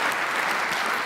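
A short burst of dense, steady applause from a church congregation during a Sunday service, many hands clapping at once.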